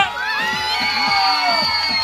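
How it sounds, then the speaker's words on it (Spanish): A crowd at a festive show cheers and shouts loudly for a woman named Margarita who has just sung a song, with children's voices prominent and a sustained music tone running through the noisy, continuous roar. "¡El aplauso para Margarita!"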